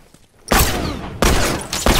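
A bomb thrown in The Last of Us online factions detonates in a loud, close blast with a roaring rumble, quickly followed by a second heavy burst and another hit at the end.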